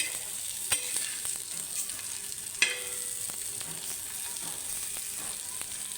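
Semolina-coated fish pan-frying in a little oil over a low gas flame, a soft continuous sizzle with a couple of sharp clicks from the pan or spatula.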